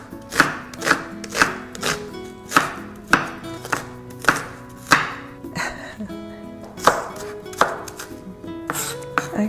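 Onions being chopped on a board for chicken ragu: a steady run of about a dozen crisp, close knife knocks at an even rhythm, with a brief pause midway and no talk.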